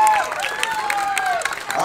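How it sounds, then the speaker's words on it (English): An audience at a county fair family gameshow applauds the kids, a short burst of clapping and cheering with voices mixed in. "would you guys give them one more round of applause?"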